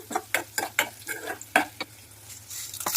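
Repeated stirring scrapes and taps in a pan over a soft sizzle of dried red chillies frying in oil, in irregular bursts with a low steady hum beneath.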